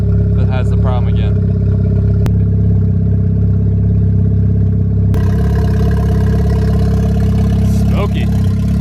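A smoky Mk6 Volkswagen engine with a large intake filter idles loudly close by, a steady low rumble with slight rises in revs and faint clatter.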